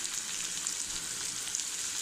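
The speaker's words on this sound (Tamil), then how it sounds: "சீரகம் பொரிஞ்சிக்கிட்டு இருக்கு." Cumin seeds frying in hot oil in a pan for a Tamil spinach dal, giving a steady, close, quiet crackling sizzle with no voices.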